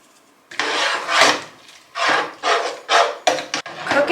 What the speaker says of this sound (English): scraping any brown bits from the bottom of the pan with a wooden spoon until thickened